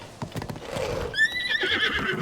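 A horse whinnies in The Legend of Zelda: Tears of the Kingdom, loud and close, after a few clopping hoof sounds, the high neigh rising and wavering for about a second.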